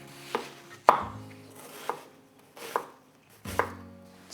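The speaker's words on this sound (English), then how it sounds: "While that's cooking, we'll slice some onions." Onions sliced with a knife on a board for bangers and mash, five distinct crisp chops spaced about a second apart, close and clear with no talk.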